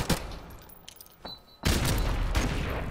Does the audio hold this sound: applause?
no